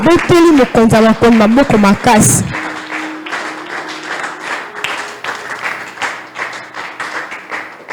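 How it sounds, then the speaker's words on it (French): A church congregation applauds continuously after a voice speaks over the crowd, dense sustained clapping filling the hall at moderate loudness. "On acclame pour le Roi des Rois."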